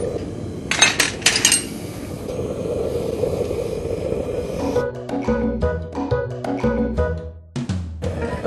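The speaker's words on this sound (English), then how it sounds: "Time to start feeding in the metal." Chunks of aluminum clink and clatter as they are dropped into a crucible of melting aluminum for home casting, a run of bright metallic knocks near the start, then a longer stretch of irregular clanks and tinkles over a steady furnace roar.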